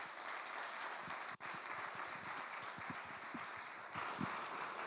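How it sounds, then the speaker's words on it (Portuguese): Quiet applause for Jesus fills a church, a soft, continuous wash of clapping from the congregation lasting a few seconds. "Uma salva de palmas para Jesus."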